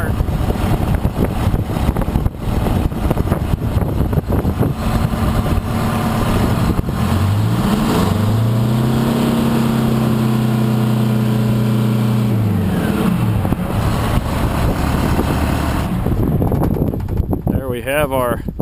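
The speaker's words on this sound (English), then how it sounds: "This is a cold startup." A Detroit 8V72 diesel in a 1975 Chevrolet Titan 90 cab-over semi truck runs on a cold start, a steady rumble under wind noise that revs up and falls back mid-clip.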